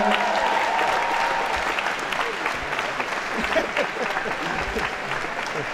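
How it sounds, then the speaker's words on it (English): A crowd applauds steadily at a high school awards surprise, a dense wash of clapping that holds for several seconds, with voices faintly mixed in. "Can we get a round of applause for that?"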